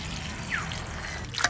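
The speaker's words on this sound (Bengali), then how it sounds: "এবার এই টক ফলগুলো ধুয়ে নেবো পরিষ্কার করে" Sour fruits are washed by hand in water, giving a brief soft trickle and slosh with a few small splashes near the end.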